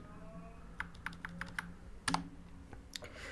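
Keys clatter on a computer keyboard while a value is entered into a MySQL table, a quick run of separate clicks followed by a louder burst of strokes and a few more taps, close and alone with no talk.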